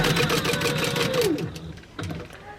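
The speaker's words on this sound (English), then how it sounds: "I'm sewing down, making sure your needle is down" A sewing machine stitches fabric for a carrying case. Its steady mechanical whir runs loud and close, then winds down and stops, followed by one brief burst of stitching.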